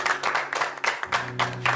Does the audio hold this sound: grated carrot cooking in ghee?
no